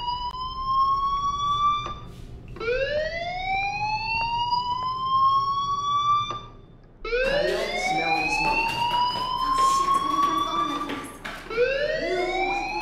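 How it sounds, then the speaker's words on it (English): Fire alarm ringing in the video game Life is Strange, a loud, close electronic wail that repeatedly sweeps upward in pitch, with cycles overlapping and stacking, briefly pausing midway before resuming. "do you hear that fire alarm? That means you should be outside."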